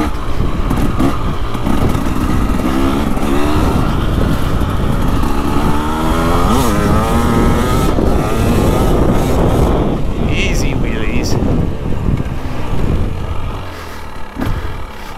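A 2025 KTM 300XCW Champion Edition dirt bike rolls on the throttle, its two-stroke engine droning loud and close beneath heavy wind buffeting, pitch swelling as it pulls smoothly.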